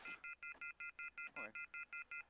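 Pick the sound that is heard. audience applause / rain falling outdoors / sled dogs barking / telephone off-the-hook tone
telephone off-the-hook tone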